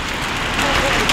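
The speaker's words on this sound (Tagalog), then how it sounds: "umuulan ng yelo" Hail pelts down during a summertime hailstorm in Riyadh, a dense, steady, close-up clatter filling the brief moment.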